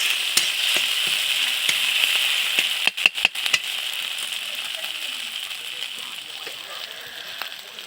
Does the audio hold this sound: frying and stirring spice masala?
yes